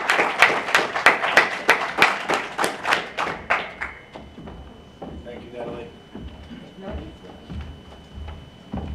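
Audience applause at a summit talk, a burst of dense clapping that is loud for the first few seconds, then thins and fades into scattered claps and room murmur.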